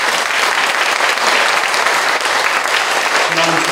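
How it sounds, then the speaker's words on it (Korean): Congregation applauding during a church sermon, a loud, dense, continuous clapping from many people in the pews, close and full, with faint voices near the end. "우리 박수 한번 쳐주세요"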